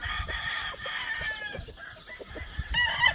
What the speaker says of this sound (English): I just sold this rooster right here